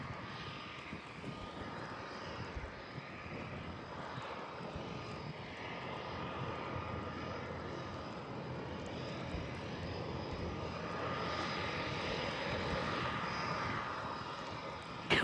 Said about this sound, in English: And once this plane takes off,